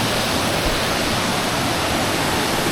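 A waterfall at Dalitiwan resort in Majayjay, Laguna, fed by clear mountain water, sends out a steady, dense roar of rushing water from nearby, with no voices.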